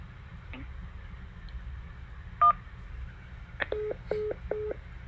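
Touch-tone keypad dialing for an incoming call to a live call-in talk show: a single beep, then a rapid run of three or four short DTMF tones, close and clear over a quiet low hum.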